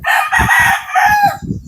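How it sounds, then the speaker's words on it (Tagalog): A rooster from a coop of bred fighting gamecocks crows loudly at close range, one drawn-out cock-a-doodle-doo with low thumping sounds underneath. "Dito na lumipat yung mga manok."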